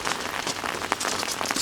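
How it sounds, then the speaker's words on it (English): Rain falls steadily in a garden of late-August crops, a dense close hiss of drops with no talk over it. "Rain has slacked off a little bit,"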